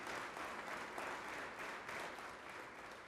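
Steady applause from an audience at an evening honoree event, a continuous wash of many hands clapping at moderate distance for the whole stretch.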